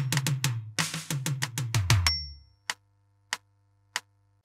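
A drum fill on snare and toms from a song: rapid strokes descending in pitch, a brief pause, then three spaced sharp hits over a lingering low hum.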